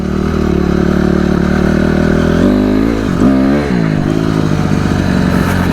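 A motorcycle engine revs hard and steadily during first wheelie attempts, its pitch dipping and surging as the throttle is worked, loud and close with no talk over it.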